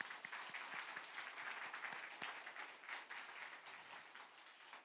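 Steady applause from a large church congregation fills the room during a Sunday service, dense and continuous clapping at moderate volume that tapers slightly toward the end.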